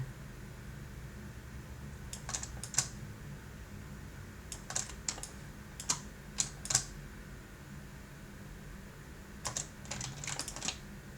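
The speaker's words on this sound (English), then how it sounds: "I'm just holding down Alt, Shift, clicking and dragging" Computer keyboard keys and mouse buttons click in short, quiet bursts of a few presses at a time, separated by pauses, with a low room hum underneath.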